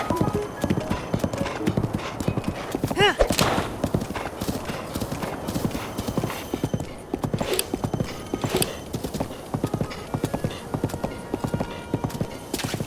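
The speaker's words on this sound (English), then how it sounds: "when you ride into Kakariko Village on your horse" A horse gallops into Kakariko Village in a Zelda video game, hooves clip-clopping in a fast, continuous rhythm with a brief neigh partway through, loud and up front over the game's ambience.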